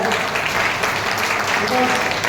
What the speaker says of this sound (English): So I should get a very big clap for him